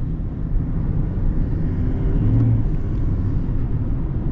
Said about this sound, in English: Love the diesel sounds.